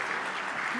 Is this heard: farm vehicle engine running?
no